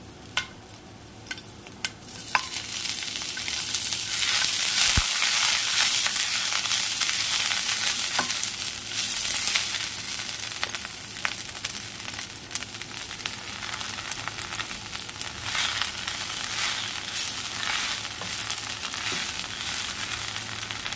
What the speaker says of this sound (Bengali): এবার অল্প নেড়ে ছেড়ে পাতাগুলোকে তুলে দিচ্ছি